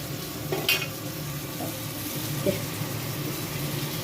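Onion, garlic and ginger paste frying in a pan for a Bengali katla kalia, with a steady low sizzle and a few soft stirring scrapes and knocks throughout.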